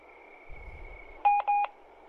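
A video game notification sounds as two short, loud tonal beeps in quick succession, heard alone over a quiet background hum.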